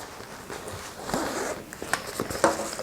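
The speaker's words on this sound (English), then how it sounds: "And then on the back, we have another zipper." A zipper on the back pocket of a fabric bag is pulled open, giving a close, rasping run of short tooth clicks over a few seconds with no one talking.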